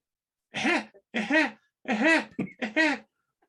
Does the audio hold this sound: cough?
yes